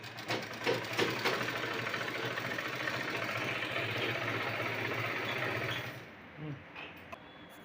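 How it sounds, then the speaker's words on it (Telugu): A sewing machine runs steadily and close while it stitches a blouse, a continuous whirring hum that stops abruptly near the end and gives way to a few soft handling sounds. "క్లాత్ కుడతామని అయితే మొదలుపెట్టిన ఇప్పుడైతే కుడుతున్నాను"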